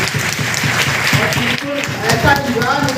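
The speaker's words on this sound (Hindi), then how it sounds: "के लिए जोरदार ताली चाहता हूँ।" Loud, sustained applause from an audience at a DXN meeting in Basti, dense clapping filling the room throughout with voices mixed in.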